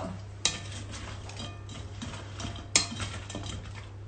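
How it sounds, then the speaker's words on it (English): Tongs toss sauced chicken wings in a metal bowl or pan, with two sharp metallic clanks among soft shuffling and clinking, quiet and close under a low steady hum. "Do you wanna take the tongs and sort of mix them up a little bit?"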